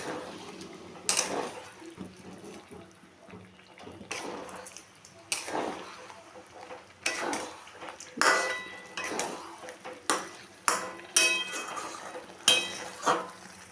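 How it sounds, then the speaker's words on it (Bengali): A utensil stirs chicken coated in coriander paste in a pan, making intermittent metallic clinks, scrapes and knocks at an irregular pace over a quiet background, with no speech. "এখন আমি এটার মধ্যে দেব ধনেপাতা বাটা, দিয়ে আমি আরেকটু মিশিয়ে নেব।"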